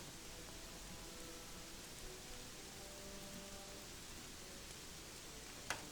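Steady rain falls on the coast in the video game Gothic 3, a constant soft hiss at low level with a brief sharp tap near the end.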